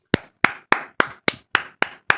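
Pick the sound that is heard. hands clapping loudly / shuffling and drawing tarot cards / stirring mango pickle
hands clapping loudly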